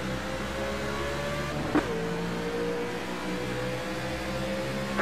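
Steady engine drone of NASCAR Xfinity Series race cars at Chicagoland Speedway just after a green-flag restart, a continuous hum with a brief tonal sweep and a sharp click partway through; no talking.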